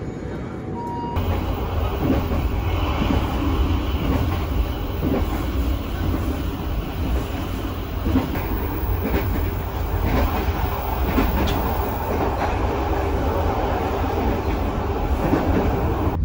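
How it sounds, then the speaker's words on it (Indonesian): The Banyubiru passenger train departs Gundih station, rumbling steadily with rhythmic clacking wheels, a loud continuous mechanical drone that holds throughout without pause. "kereta api Banyu Biru persiapan diberangkatkan kembali dari stasiun Gundih"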